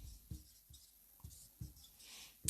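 Writing on a board during a maths lesson, a series of faint, soft taps and short scratchy strokes spaced irregularly in an otherwise quiet room.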